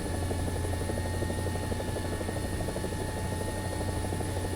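A helicopter in the War Thunder simulator, its rotor and engine giving a loud, continuous, steady drone with rhythmic blade chop throughout.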